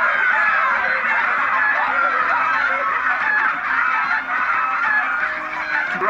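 Chickens make loud, constant frantic squawking and clucking in the Minecraft Story Mode video game, a dense, crowded flock heard close up in a single unbroken racket.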